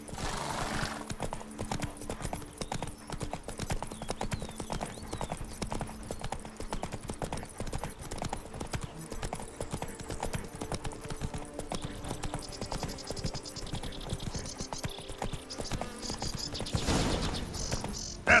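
Roach, Geralt's horse in The Witcher 3, galloping steadily, with rapid continuous hoof clip-clops at an even moderate level over faint ambient game sound, ending in a brief louder burst.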